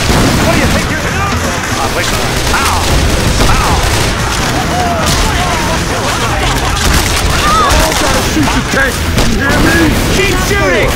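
Heavy, continuous barrage of explosions and gunfire from a grenade launcher and guns in Left 4 Dead 2 survival mode on the Sugar Mill map in Hard Rain, loud and dense throughout with booms stacking over rapid shots.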